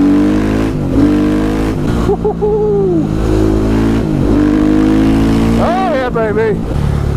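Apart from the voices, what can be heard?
KTM 500 EXC supermoto with FMF Factory 4.1 RCT exhaust revving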